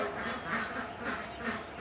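Several geese honk in short repeated bursts, fairly close, with a low background murmur.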